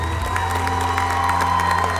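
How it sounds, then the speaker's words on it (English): Audience applause and cheering fill a hall at a university sports hall of fame ceremony: steady, dense clapping with scattered whoops, continuous and fairly loud throughout. "Please join us in a round of applause for 2018 inductee Avon Coburn."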